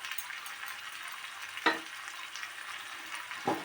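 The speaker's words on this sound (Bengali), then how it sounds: "মশলা থেকে যতক্ষণ না তেলটা ছেড়ে আসছে ততক্ষণ আমি এটা কষাতে থাকবো।" Spice masala sautéed and stirred in oil in a pan for a Bengali green potato dish, a soft steady sizzle with two sharp spatula scrapes, fairly quiet, no talking.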